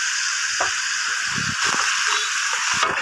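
Onion and green chilli paste sizzles in a hot pan for a Bengali katla fish curry with mustard and poppy seed, a steady bright hiss with soft stirring scrapes and clatters underneath.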